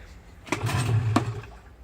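A Sharmax 9.8 outboard boat motor fitted with a Mikatsu 9.8 impeller starts with a couple of sharp pull-cord strokes and catches into a brief, close, low-pitched rumble before fading.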